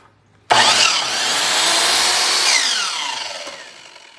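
A SKIL 10-inch dual bevel sliding compound miter saw, model MS6305-00, starts abruptly after a moment of quiet. A loud, bright motor whine runs through the cut, then winds down and fades.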